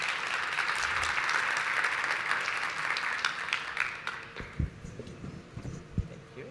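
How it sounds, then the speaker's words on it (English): A conference audience applauds after a data-engineering talk, with steady broad clapping that thins out and fades to scattered claps and soft thumps. "Let's go ahead and give Bilal one more round of applause."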